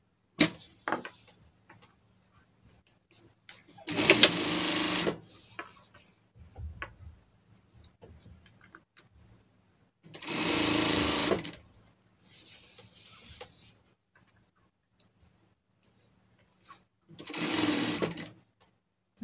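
A sewing machine stitching a folded fabric strip for a costume runs in three separate whirring bursts of a second or two each, close and clear, with quiet handling noises between.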